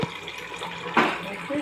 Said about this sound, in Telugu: గ్లాస్ నీళ్ళు పోయాలి.